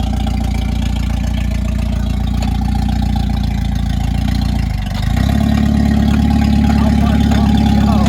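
A Jeep YJ engine runs steadily at close range, loud and continuous, with a brief dip in the middle before it carries on with a slightly deeper, heavier tone.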